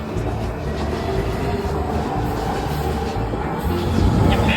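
A wrapped Metro subway train at College Park rumbles steadily with a continuous low roar of wheels and motors, loud and close throughout, swelling slightly near the end.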